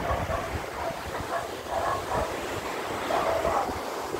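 Choppy sea waves at the Molo boulevard seawall in Iloilo City at high tide, with Guimaras across the water: a steady, rushing wash of surf mixed with gusty wind buffeting the microphone.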